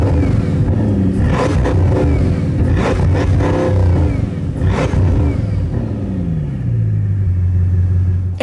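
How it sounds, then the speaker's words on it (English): A loud Bugatti Chiron Pur Sport engine revs repeatedly, rising and falling in pitch with a rumbling exhaust, then settles into a lower, steady drone. "Take a listen to this car revving."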